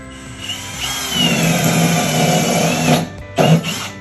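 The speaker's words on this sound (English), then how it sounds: "only drill backwards, like that" A power drill whirs loudly and steadily for several seconds, stops briefly, then gives a short final burst.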